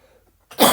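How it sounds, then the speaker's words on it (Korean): A single harsh cough bursts out after a near-silent pause, close and loud, from a teacher with a sore throat during a math lesson. "계속 기침이 나온다"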